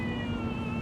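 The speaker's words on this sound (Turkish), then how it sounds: "artık bebek ağlama sesi duymak istemiyorum" A baby's cry, loud and continuous for under a second, over a steady background hiss.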